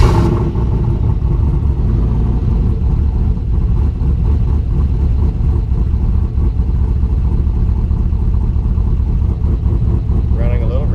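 Junkyard LS 5.3 turbo engine running steadily after starting, a loud, close, continuous low rumble with a rough throbbing idle. Voices are heard briefly over it.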